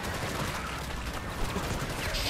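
Rapid gunfire from the Starship Troopers Extermination video game, a dense continuous barrage of shots and blasts filling the whole moment, loud and close without a break.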